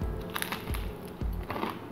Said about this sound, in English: Let me take one more crunchy bite.